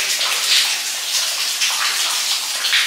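Water spills like a small waterfall on the Cornwall coast, a steady close rushing hiss with no talk.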